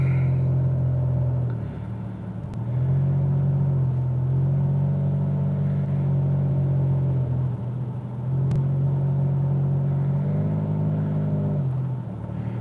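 A truck drives along a long private road toward Shelp Lake, its engine rumbling low and steady from inside the cab, with gear-like rises and dips in the drone and no speech.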